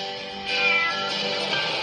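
A kitten from a 1989 family film meows in a single drawn-out, clear, close cry that swells after a short quiet start and holds for about a second and a half.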